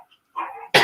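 Dog barking indoors during a casual talk-show chat, a short muffled bark followed by a louder, sharper one close by, with no talk over it.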